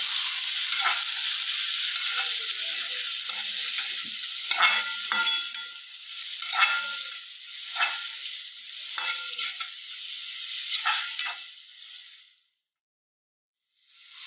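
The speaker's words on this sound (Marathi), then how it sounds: "बारीक चिरलेला टॉमॅटो तो चांगल्या प्रकारे परतून घ्यावा" Finely chopped tomato and onion sauté in a pan for a bitter gourd vegetable dish, giving a steady close sizzle with repeated scraping stir strokes before the sound cuts off near the end.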